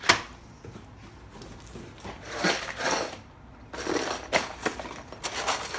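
Ford keys clink and jingle as they are unpacked from a parcel, a few light metallic rattles in separate bursts, close and fairly quiet, with no talking.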